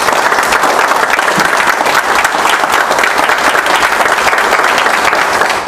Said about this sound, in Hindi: एक बार जोरदार ताली बजा दो आप